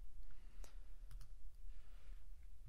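A few quiet, crisp mouse clicks on a computer, a couple of taps close together and then isolated ones, over faint room hum.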